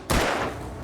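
A single sharp gunshot booms and decays quickly in the Alan Wake video game on Xbox 360, alone and close.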